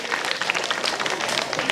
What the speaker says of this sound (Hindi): ये ताली इनके लिए थी